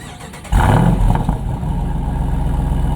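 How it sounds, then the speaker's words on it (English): A 2024 Jeep Wrangler 392 Hemi V8 with active performance exhaust fires up: a short whir, then a sudden loud catch at about half a second and a deep, steady rumbling idle that holds close and alone. "let's just go ahead and fire it up."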